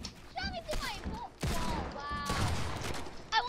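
Rapid bursts of gunfire in the Fortnite video game, overlapping with excited voices talking and game effects in a busy, loud mix.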